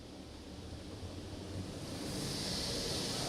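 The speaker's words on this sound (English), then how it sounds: "Sign says high pressure wash" High-pressure spray from a PDQ LaserWash G5-S automatic car wash, a steady hissing rush of water that grows slightly louder toward the end and continues without pause.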